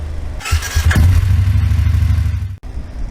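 A BMW F750GS motorcycle engine cranks and fires up close, settling into a loud, steady low idle before a brief cutout and restart.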